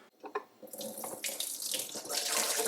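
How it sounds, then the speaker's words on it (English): Dirty water emptied from the tank of an Ecovacs Deebot X12 robot vacuum into a sink: a steady, close pour and splash that builds after a brief clunk and keeps running to the end. "Now we got to go inside and empty the dirty water tank."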